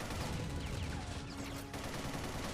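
Turret gunfire in the Ninja Gaiden 2 Black video game, a dense, continuous barrage of rapid shots running steadily throughout at moderate level with no pauses.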